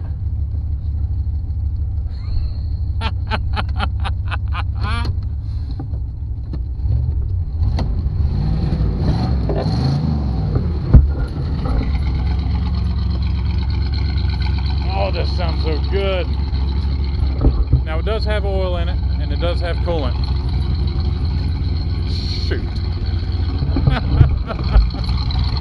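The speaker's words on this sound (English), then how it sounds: "Bit of an exhaust leak." A 1984 Chevy Caprice two-door idles with a slight exhaust leak and the choke still on, a steady low rumble with a brief louder knock around the middle while someone talks over it at times.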